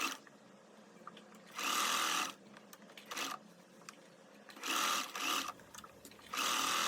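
A sewing machine stitches a 5 cm hem around the bottom of a sleeveless blouse, running in three short bursts of steady whirring with quiet gaps between them.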